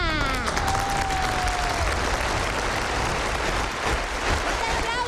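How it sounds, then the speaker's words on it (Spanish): Loud, energetic crowd applause mixed with cheering and shouting voices in a lively studio setting, a continuous dense roar with a whistle-like tone sliding through early on. "¡Fuerte el aplauso para la jefa!"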